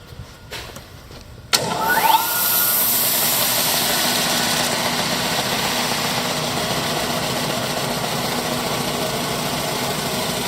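A Porter Cable G8 8-inch belt sander switches on with a sharp start, then settles into a loud, steady motor whine and belt hum that runs on alone without pause.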